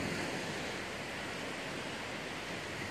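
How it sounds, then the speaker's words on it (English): Broadband surf at a sandy beach with wet sand under a southerly storm, a steady continuous roar of waves and wind with no break in level and no voices. "Here we are at the beach again."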